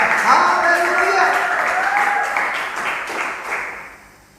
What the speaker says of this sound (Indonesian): Tepuk tangan yang meriah bagi Dia